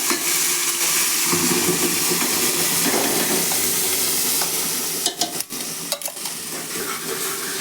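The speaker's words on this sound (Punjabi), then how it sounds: "ਇੱਥੇ ਆਪਾਂ ਫੁੱਲ ਸੇਕ ਦੇ ਉੱਤੇ ਹੀ ਮਸਾਲੇ ਨੂੰ ਚੰਗੀ ਤਰ੍ਹਾਂ ਦੇ ਨਾਲ ਭੁੰਨ ਲਵਾਂਗੇ" Ground masala roasting in hot oil with cumin seeds in a pan on full heat for aloo matar sabzi, a loud continuous sizzle and crackle with a few brief pauses and spoon scrapes near the end.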